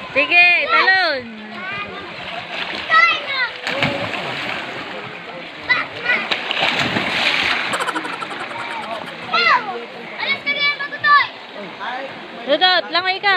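Water splashes loudly as people jump into a forest swimming hole, with excited voices and children chattering throughout.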